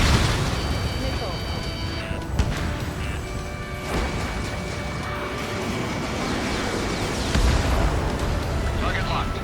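Missile explosions during an Ace Combat 7 jet dogfight, a steady roar of booming blasts and rumbling detonations with engine noise, along with radio-style voices talking throughout.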